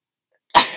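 A single sharp human sneeze bursts out close and loud after silence, in a quiet indoor room.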